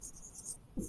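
A marker or chalk squeaks faintly across a classroom board as a sentence is written, a soft, scratchy stroke heard close with no talking.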